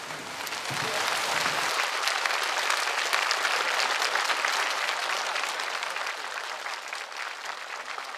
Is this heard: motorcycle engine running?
no